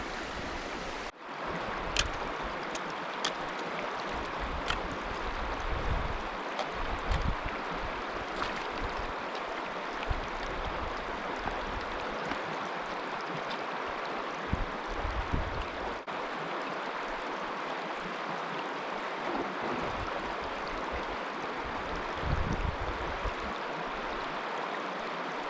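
A river on a fell walk in the Caldbeck Fells near Blencathra in September flows as a steady, broadband rushing wash, continuous and fairly close, with occasional faint bumps from movement and no talking.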